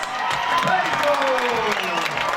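A crowd applauds and cheers for the organisers at the Miss Libanon 2013 pageant, steady clapping mixed with whoops and a voice over a loudspeaker on top.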